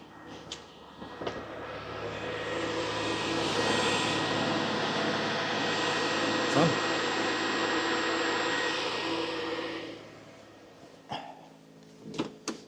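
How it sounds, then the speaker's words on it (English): Electric cooling fan running steadily in the engine bay of a Mercedes W123, a loud constant whirring rush that holds for about ten seconds, then cuts off, leaving a few faint knocks. "So we've now got fan."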